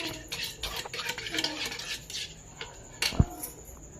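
Egg and milk being whisked together in a bowl with a utensil, a steady close run of quick metallic clinks and scrapes, with one sharper knock near the end.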